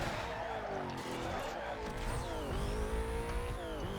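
A Corvette races in Need for Speed Most Wanted, its engine droning loud and steady with rising and falling revs and faint tire noise throughout.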